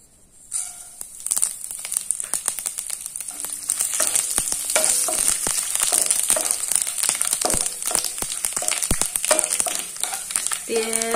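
Panch phoron five-spice crackles loudly in hot oil with a bay leaf, giving a dense, continuous spattering sizzle full of sharp pops that runs throughout, with occasional stirring clinks.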